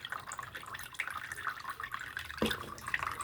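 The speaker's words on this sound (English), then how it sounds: "That water is draining completely out." Water from a 16-ounce watering draining out of a potted Hoya, faint trickling and dripping with a few sharper drops and a small splash partway through, quiet and close.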